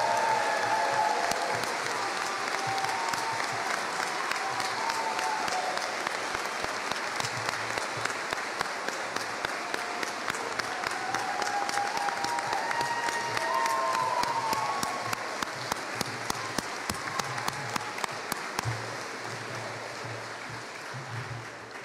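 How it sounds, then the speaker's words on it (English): A graduation audience gives the faculty sustained applause, a dense steady wash of many hands clapping in a large hall, thinning to scattered claps toward the end. "I would ask you for your applause to thank them for their work."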